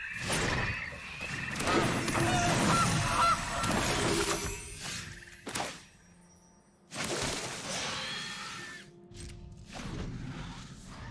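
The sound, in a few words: goose honk sound effect from video game MTG Arena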